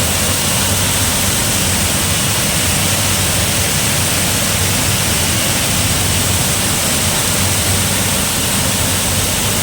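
A coffee bean sorting and filtering machine at work in Krishnagiri district, giving a loud, dense, unbroken rushing roar like pouring grain, steady throughout with no pauses and no voices.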